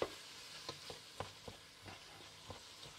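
Minced meat for chili con carne is stirred in a hot pan, soft sizzling underneath a steady series of spoon scrapes and taps about every third of a second, quiet and close.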